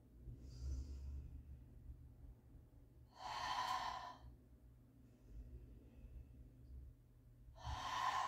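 Two strong, breathy exhalations about four seconds apart from a person doing EZ curl bar skull crushers, close to the microphone over a low rumbling background.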